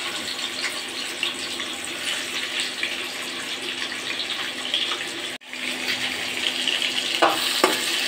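Chopped onions and chillies sizzle in hot soybean oil while being stirred. A continuous bright crackling hiss holds steady throughout, broken by a brief drop and a couple of light clinks near the end.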